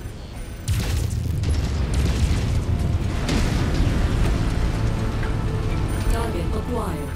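A rumbling explosion as an enemy vehicle is destroyed in Mechwarrior 5: Mercenaries, a loud burst followed by a long, roaring wash of debris and rumble, with a radio voice briefly heard near the end.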